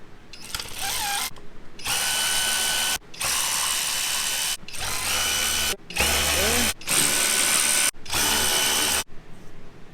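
Power tool driving out 8mm or Torx bolts from the oil cooler housing of a Jeep Wrangler with a 3.6 Pentastar engine, with loud, close whirring bursts of a couple of seconds each, broken by brief stops.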